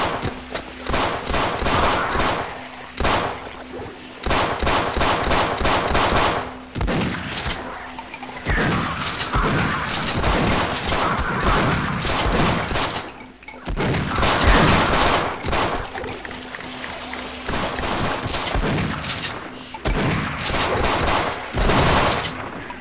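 Enemies firing down from the sky on the Hostile Planet map in Half-Life Sven Co-op: loud, dense, near-continuous rapid gunfire for over twenty seconds with brief gaps and a steady low hum beneath.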